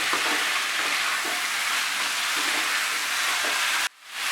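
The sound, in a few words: vegetables with spices sautéing in a pan on high flame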